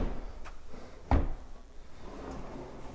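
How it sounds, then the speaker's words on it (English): A kitchen pull-out drawer in a luxury home slides and shuts with one soft, fairly close thud, set against a quiet room hiss and without voices. "With some pull-out drawers, making access really, really easy."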